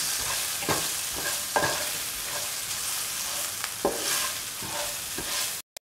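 Turmeric powder being stirred into a seer fish curry in a pan, with a steady sizzling hiss broken by repeated scraping strokes of the spoon, close and moderately loud, ending in brief gaps of silence.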